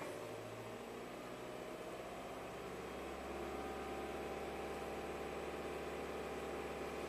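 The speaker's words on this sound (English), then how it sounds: "I'm just going to raise the RPMs up." Nissan Rogue engine running rough with a rich fuel trim fault, revving steadily as the RPMs are raised, a continuous mid-pitched drone that climbs and thickens partway through, close and alone without talk.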